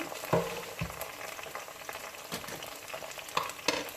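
Onions fry to brown in oil for chicken biryani, a steady, close crackling sizzle with occasional spatula stirs and soft pops.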